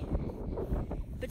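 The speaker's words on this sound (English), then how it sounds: "Yeah, it's like windy." Gusty outdoor wind buffets a handheld camera microphone, a continuous low rumble with a sudden gust near the end, under a speaking voice.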